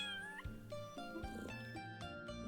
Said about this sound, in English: But first off, let's tease the cat.